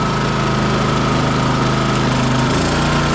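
A Champion 73001I-E 3.5 kW inverter generator runs close by, a loud, steady engine drone with a slight change in tone near the end, no voices over it.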